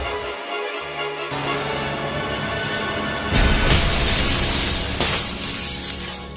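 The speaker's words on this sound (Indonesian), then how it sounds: "mulai memecahkan beberapa kaca yang berada di kosan itu" Mirror glass being smashed in a 2006 Indonesian horror film, a sudden loud shattering crash with tinkling shards trailing off over a low droning score.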